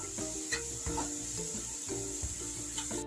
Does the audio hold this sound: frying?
yes